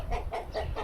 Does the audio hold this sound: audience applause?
no